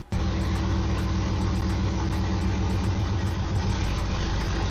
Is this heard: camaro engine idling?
yes